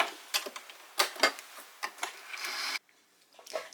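A sewing machine stitching a dress seam, short bursts of rapid mechanical clatter in uneven runs that stop abruptly, with a few separate ticks afterward, close and without speech.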